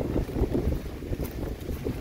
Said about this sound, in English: Very windy. Especially wind gusts of